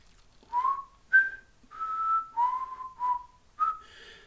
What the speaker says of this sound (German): Wojciech pfeift.